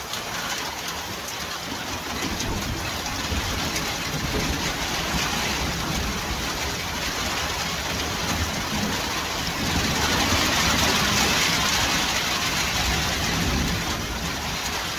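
Heavy rain pours steadily in a dense wash of noise in Nadrybie Wieś, Poland, with low rumbles of thunder rolling beneath it and swelling louder later.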